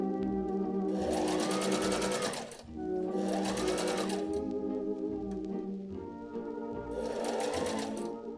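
Close and loud, a sewing machine stitches facings onto the neck and sleeve openings of a 1920s dress in three runs of fast, buzzing whir, with the needle's rhythmic chatter under a steady hum between runs.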